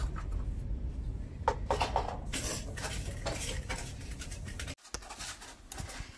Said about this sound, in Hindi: ये देखिए कन्या बर्तन वगैरह धो ले रहे हैं